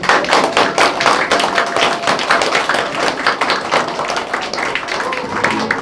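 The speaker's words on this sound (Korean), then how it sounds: "큰 박수로 맞아주십시오." Audience applause at the opening of a campaign office for a Dongjak district head preliminary candidate, a dense, steady clatter of many hands filling the room for several seconds, with crowd voices mixed underneath.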